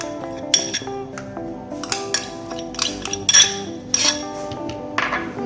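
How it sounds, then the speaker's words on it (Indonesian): Margarine and butter being beaten together in a bowl with a metal whisk, producing loud irregular clinks and scraping taps against the bowl's sides in quick uneven bursts. "Kita akan kocok margarin dan butter"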